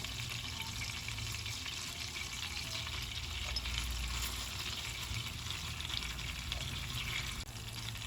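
Butter melted in a pan sizzles with added mint for chicken soup, a steady close frying hiss that holds at an even level throughout with no talking.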